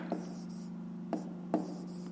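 A pen writing on paper during a math exercise: three short, faint scratches over a steady low hum, with no speech.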